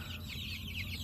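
Young chicks chirp in a crowded coop, a dense, continuous mix of high peeping and clucking from many birds close by.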